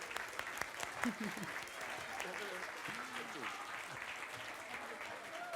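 Applause from a theatre audience at an official ceremony at Teatr Kamienica, a dense steady patter of many hands clapping throughout, with some voices and murmuring mixed in.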